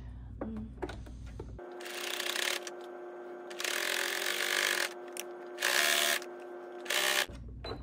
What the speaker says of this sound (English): I'm sewing really close to the edge at about 1 8 of an inch.